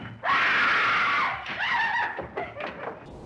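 A loud, sustained scream from the 1933 film The Invisible Man, starting abruptly and holding steady for about a second before breaking into shorter wavering cries with no talk.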